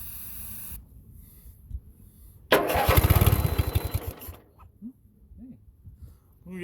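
Small engine with a stuck choke on a cold start attempt, about two seconds of loud, close sputtering cranking and firing that dies away, with quieter handling noises before and after.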